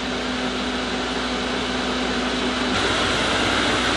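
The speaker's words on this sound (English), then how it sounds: "This over here is the blower that sucks the air" The blower fan of an argon ion laser gives a steady, close whooshing hum with a faint tonal whine. The airflow grows slightly brighter and louder near the end, with no speech.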